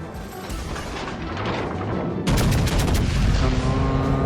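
The Centurion warship's main guns fire SAP shells in World of Warships Legends against a Marco Polo: rolling, heavy cannon blasts that build into a louder, denser salvo halfway through, with booming low rumble throughout.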